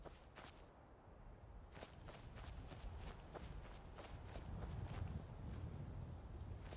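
Footsteps of a character walking in modded Skyrim, a steady run of soft crunching steps over a constant windy outdoor ambience, with no talking.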